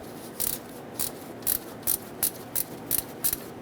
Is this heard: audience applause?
no